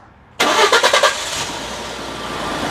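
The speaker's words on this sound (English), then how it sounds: "First startup with the AMSOIL." A 2011 Ford F150 with the 3.5L EcoBoost twin-turbo engine starts up on fresh synthetic oil: a quick burst of cranking pulses catches into a loud, steady idle that holds close and alone.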